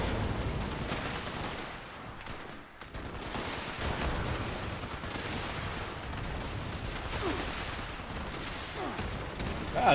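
Sustained gunfire in the Fallout 76 video game during a hectic fight, with dense overlapping shots and bursts running continuously at a loud, steady level.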